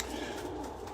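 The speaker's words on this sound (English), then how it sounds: "But again, I'm hearing the cooing." Pigeons coo close by in a hallway feeding area, a soft, steady throaty murmur mixed with general room noise and no talk.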